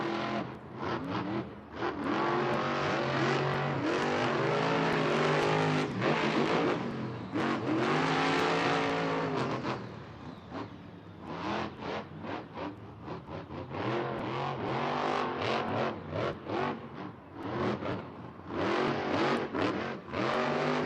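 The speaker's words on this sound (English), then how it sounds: "We are ready to go green with more Monster Jam Racing." Monster Jam monster trucks, including El Toro Loco, racing in a stadium, loud roaring engines revving hard and rising and falling in pitch as the trucks accelerate, with rapid bursts of throttle late on.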